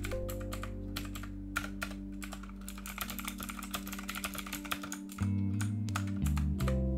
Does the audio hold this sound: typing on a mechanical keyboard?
yes